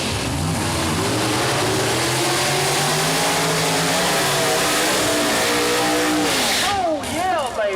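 A loud nitrous Pro Mod drag racing engine, over 700 cubic inches, roars steadily at high revs, its pitch sweeping up and down, with a brief shift near the end, at Mooresville Dragway.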